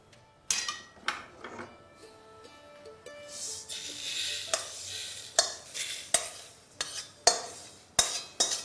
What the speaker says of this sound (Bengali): খুব বেশিক্ষণ ভাজতে হবে না, 3 থেকে 4 মিনিট ভেজে নিলেই হবে